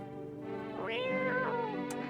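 A cat in the video game No, I'm Not A Human lets out a drawn-out, wavering meow with two rising swells, close and clear over a steady low background hum.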